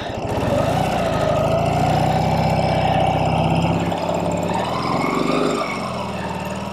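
Ural two-wheel-drive sidecar motorcycle engine runs close by with a continuous low, throbbing rumble at a steady level, the pitch dipping slightly near the end.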